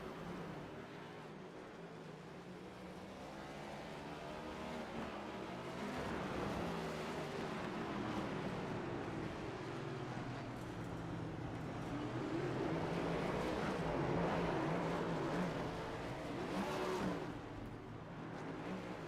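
Race car engines droning and revving around the 2.6-mile COTA road course in a QSR Next Gen sim racing game, a continuous loud blend of several engines rising and falling with passes, with no talking.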